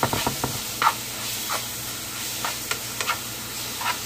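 Steak fajita meat frying in a pan gives a steady broadband sizzle with brief pops and crackles scattered throughout, close and moderately loud, with no talking.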